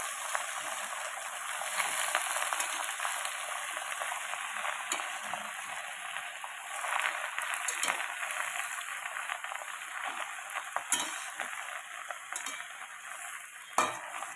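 Malabar spinach leaves and a few stalks are stirred as they fry in a pan, a faint, airy sizzle with occasional soft scrapes and taps, no talking.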